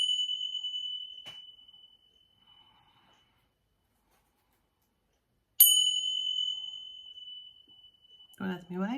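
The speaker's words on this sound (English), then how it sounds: "The Tibetan bells are actually really beautiful." Tibetan bells struck twice, each a clear sustained ring with long decay, separated by a silent gap; a voice begins speaking briefly at the very end.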